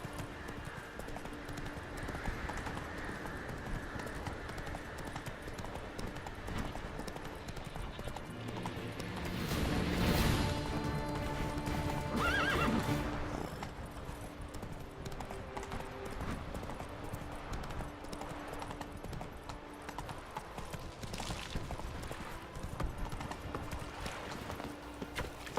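Roach, the horse in The Witcher 3: Wild Hunt, gallops with a steady, rhythmic clip-clop of hooves over an ambient game soundscape. A brief neigh-like swell rises in the middle. The whole clip is moderately quiet.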